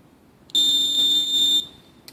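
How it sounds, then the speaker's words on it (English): A Lutron QSM unit emits a single sustained electronic beep of about one second while its program button is held, loud and close in a quiet room, followed by a tiny click. "Hold it until you hear a beep."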